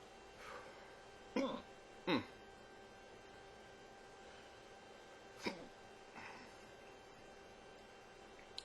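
A man hiccups after eating a Trinidad Scorpion pepper: four sharp, fairly close hiccups at uneven intervals over a quiet room background.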